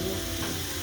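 Pepper steak frying in a pan gives a short burst of steady sizzle, with a faint stirring scrape in the middle.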